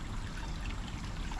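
Steady, unbroken burble of a city creek flowing over its bed, close by and moderately loud, with no voices over it.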